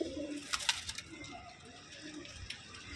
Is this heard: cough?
no